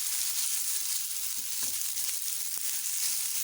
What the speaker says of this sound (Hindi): ऑयल हमारा गर्म हो चुका है। मैं इसके अंदर प्याज डाल रही हूँ।